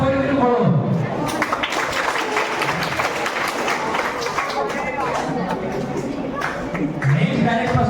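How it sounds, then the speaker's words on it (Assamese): Audience clapping at a quiz competition, a dense steady wash of applause from a crowd with voices mixed in, moderately loud and sustained throughout. "হাত চাপৰি বুলি কৰোঁ"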